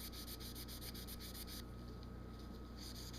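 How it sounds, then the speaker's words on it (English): Steel wool scrubs the flame sensor of a gas heater that will not stay lit, a steady close rasping rub with a fast back-and-forth rhythm that continues throughout. "I'm going to scrub it for a couple of minutes here."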